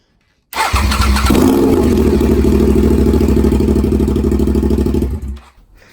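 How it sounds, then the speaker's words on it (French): A motorcycle engine being built up fires into life on a bare exhaust pipe with no silencers fitted, then runs at a loud, steady, rough idle for about five seconds before cutting off abruptly. "Et là je vais démarrer juste avec le tube pour voir avant de mettre les SC."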